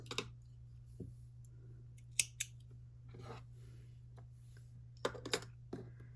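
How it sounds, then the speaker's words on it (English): Scissors snip through a length of crochet yarn in a few quiet, sharp clicks and short cuts, spaced irregularly over a faint steady hum, with no one talking. "So I'm going to grab my yarn and cut it off about a few inches long."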